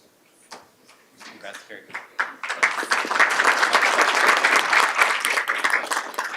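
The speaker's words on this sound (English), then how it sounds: "One more round of applause for everyone." Applause at a school board of education meeting, starting as scattered claps and swelling into steady, dense clapping from a room of people, with voices mixed in.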